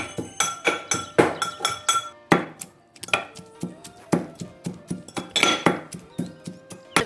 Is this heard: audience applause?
no